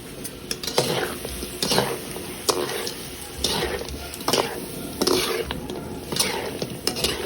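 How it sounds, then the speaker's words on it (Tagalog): Duck cooking with vinegar and seasoning is stirred in a pan, giving repeated scraping strokes in a loose rhythm over a continuous close sizzle, with brief speech in the background. "O ayan, nilagay na rin po natin ang ating suka, mga kabarangay. At syempre, halo-halo pa."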